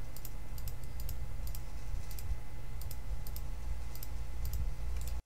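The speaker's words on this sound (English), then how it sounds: "And then this is from my mouse." Computer mouse clicking: small clusters of crisp clicks at irregular intervals, faint and close over a steady low room hum.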